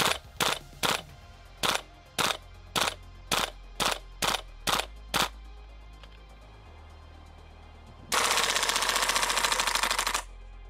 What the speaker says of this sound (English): The feedback produced from sending 3 or 4 shots at a time feels positive